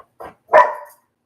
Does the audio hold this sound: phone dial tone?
no